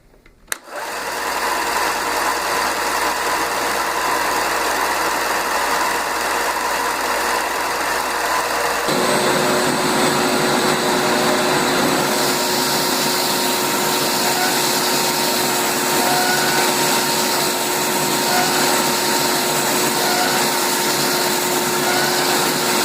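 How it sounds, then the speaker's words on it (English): A Wen belt sander fitted with a 120 grit belt works a piece of oak, its motor starting up and whining continuously, with the tone shifting as the belt meets the wood about a third of the way in. "I've changed the belt to the finer 120 grit sandpaper."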